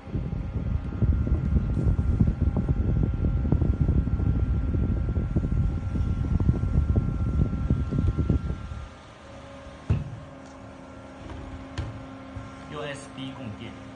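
A Xiaomi Microhoo 3 in 1 mini USB air conditioner fan running close by, a steady whooshing hum for several seconds that drops off to near quiet, followed by a faint click and soft beeps.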